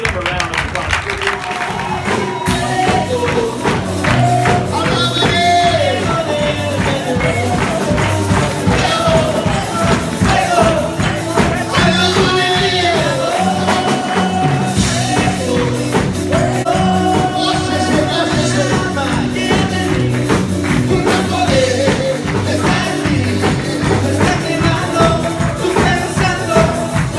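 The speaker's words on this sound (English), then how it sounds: "let's give them a round of applause." An audience at a retreat breaks into loud, sustained applause with cheering and crowd noise, a dense, continuous roar of clapping that holds steady throughout.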